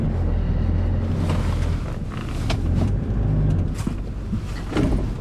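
Toyota Land Cruiser KDJ120 spinning its wheels on wet, just-thawed ground at about 5 degrees: a continuous, close engine and tyre roar with rough surging and scraping textures throughout.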